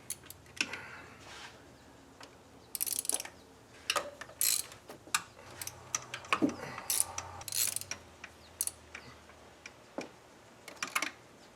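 A ratchet wrench clicks in short bursts while loosening the 12mm intake manifold bolts on a Subaru engine, with rapid close ticking runs separated by pauses and occasional metallic clanks of tools.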